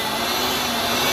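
A compressed-air blower roars steadily while blowing old, dirty oil out of a Fuso 4D30 diesel engine during an oil change, a loud continuous hiss with no breaks.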